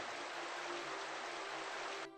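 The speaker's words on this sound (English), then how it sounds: "I want this sound source to loop a water sound, so I will move it to the water pool I made here" A looping water sound effect placed at a pool in a Tomb Raider level editor: a steady, even rush of flowing water, like a stream, continuous and fairly quiet, dropping slightly just before the end.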